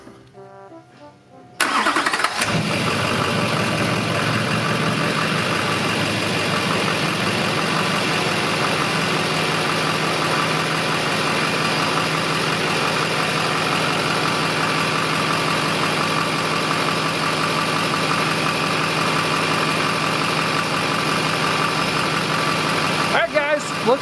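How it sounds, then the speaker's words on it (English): A Duramax diesel pickup engine cranks and catches after a brief quiet start, then settles into a steady, loud, rumbling idle that continues to the end, heard close by with no talk over it. "now we're going to start it and check to see if we have any leaks."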